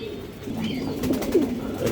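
Pigeons kept at a farm coo in soft, low, rolling calls, close and clear over a quiet background.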